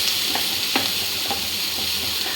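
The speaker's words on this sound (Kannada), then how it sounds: "ಈ ಕಡೆಯಿಂದ ಈರುಳ್ಳಿ ಬೇಯ್ತಾ ಇದೆ." Onions frying in a small amount of oil in a pan, a steady close sizzle with a few soft stirring scrapes and clicks, no voices.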